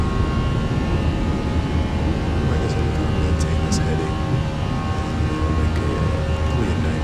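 A jet taking off from Asheville in Microsoft Flight Simulator: a steady, loud, broadband engine roar fills the whole stretch without a break, with a few faint high clicks riding on top and no talk.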